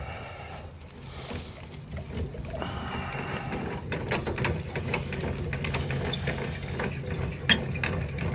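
A trailer tongue jack on a trailer with an emergency breakaway is cranked down, giving a run of ratcheting mechanical clicks and gear grinding that picks up partway through and keeps going, close and fairly loud, without speech.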